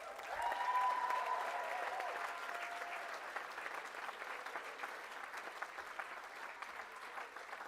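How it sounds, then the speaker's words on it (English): Sustained applause from a large audience at a University of West London graduation ceremony, steady and dense throughout, loudest at the start then settling to an even, continuous patter. "let's have another round of applause"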